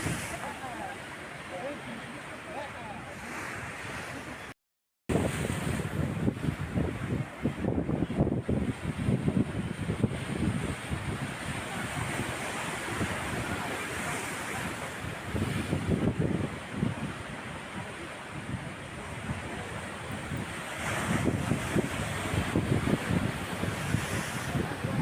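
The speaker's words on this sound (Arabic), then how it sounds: "شوفوا البحر النهاردة يعتبر عالي شوية برضو" High winter sea waves and gusting wind along the Alexandria corniche, a continuous roar of surf with wind buffeting the microphone, a brief dropout early on, and someone talking over it.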